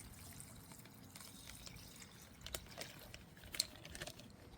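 A thin trickle of liquid marinade pours and dribbles quietly onto goose meat for jerky, with a few soft splashes and drips near the end.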